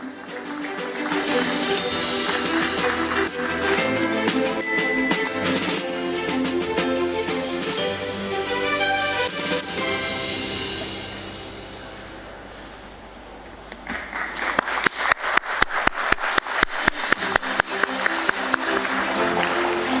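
An audience at a stock exchange listing ceremony claps over background music, and a steady burst of applause rises clearly near the end after the music fades.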